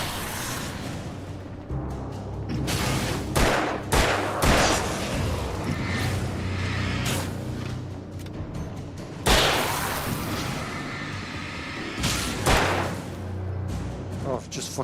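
Gunfire in the Alan Wake game on Xbox 360, with repeated heavy booming shots and thuds spaced irregularly over a continuous loud, dense rumble of action, close and forceful throughout.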